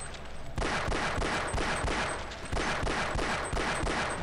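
Pistol fire in Half-Life, a rapid run of sharp, loud shots in an even rhythm, about two per second, coming in close and alone with no talk.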